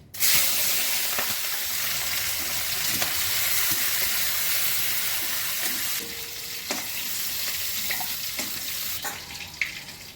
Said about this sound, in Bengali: তাই চিংড়ি মাছটা প্রথমেই আমি ভেজে নিচ্ছি